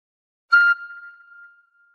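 A single tin whistle note from the Star Spangled Banner starts with a breathy attack and then rings on thin and steady, slowly fading away with no talk.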